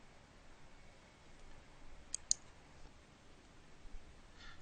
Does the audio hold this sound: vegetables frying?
no